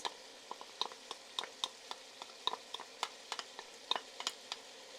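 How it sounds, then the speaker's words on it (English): Ground chuck fries with onions, peppers and garlic in a pan, giving a soft continuous sizzle broken by frequent scraping stirs and crackles, close and fairly quiet. "And we're going to fry this just until it's nice and golden brown."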